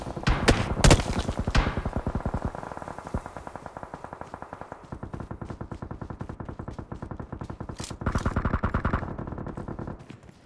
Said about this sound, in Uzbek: Bizning yonimizda otishma bo'lyapti yoki bizga otishyapti